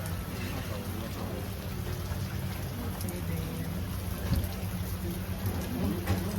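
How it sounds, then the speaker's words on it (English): Heavy wind-driven rain pouring steadily outdoors, a dense continuous hiss with occasional gusty swells and a faint low rumble, close and loud throughout. "it's raining out here. Like heavy rain, kind of blowing"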